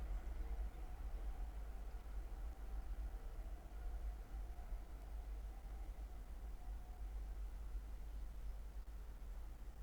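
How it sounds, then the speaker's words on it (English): Two East Midlands Railway Class 360 electric units coupled as a pair pass on the Midland Main Line on a Corby to London St Pancras service, heard as a steady, distant rolling rush of wheels and air that holds evenly for several seconds. "360 111 leading. With 360 116 bringing up the rear, working a pair of East Midlands Railway service from Corby to London St Pancras."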